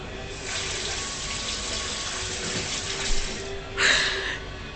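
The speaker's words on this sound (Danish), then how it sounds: "Vandhanen." A kitchen water tap runs in a steady hiss for several seconds, then a brief louder splash near the end, with no talking over it.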